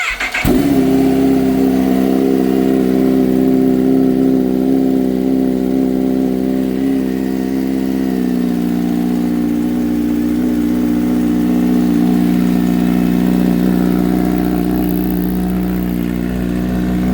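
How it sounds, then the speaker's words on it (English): A Kawasaki ZH2 fitted with a Brock's Performance full carbon exhaust fires up from cold with a sharp catch, then settles into a loud, steady, slightly lumpy high idle close by, with no talking. "we're going to start it, let you hear a cold start"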